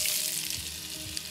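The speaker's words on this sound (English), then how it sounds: "Good sizzle, and I'm just gonna let them sweat and soften a little." Chopped onions sizzling in smoky rendered bacon fat in a pan, a close, steady crackling fry with no talking.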